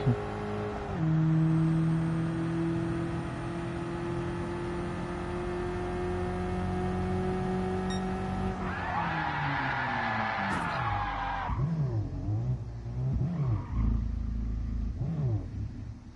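An Abarth 500 '09 engine drones steadily at high revs while lapping in a racing video game, then drops and rises through shifts with wavering revs near the end, loud and alone.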